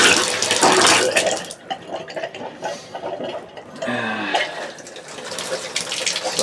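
Water from the hot tap gushes and splutters into a Fleetwood Bounder motorhome bathtub, with air bursts in the line and a pump audible under the uneven flow.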